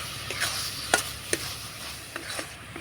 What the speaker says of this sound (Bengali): নাড়াচাড়া করে পুরটা তৈরি করে নেব পিঠের জন্য